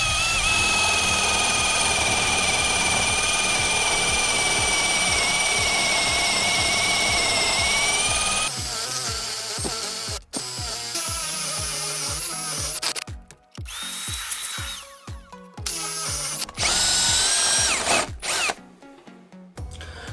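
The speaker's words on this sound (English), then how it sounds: "So let's put it to the test and let's drill some bigger holes." A Hikoki DV 18DBFL2 cordless combi drill bores holes in wood with an 8mm bit. It whines steadily for several seconds, then stops and restarts in short bursts, loud and close with no talking.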